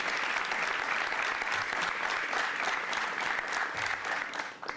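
Sustained applause from a crowd at a New York City bike safety plan announcement, honoring an Assemblymember and a Councilmember, dense and steady for several seconds before tapering off at the end.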